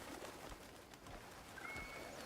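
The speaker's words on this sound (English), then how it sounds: "Look at the pigeons." Pigeons cooing in the video game Crimson Desert, soft murmuring coos set against a faint ambient wash, low in level and somewhat distant, with no talking.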